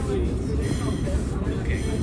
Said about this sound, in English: There's Caltrain 150. That's a southbound local train making all stops to Diridon Station in San Jose.